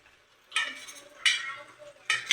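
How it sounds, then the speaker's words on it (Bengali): Paneer cubes frying in a pan, with three short bursts of hissing sizzle and stirring scrapes rising from a quiet kitchen background, each lasting about half a second. "আমি পনিরটা কেটে নিয়ে ভেজে নিচ্ছি"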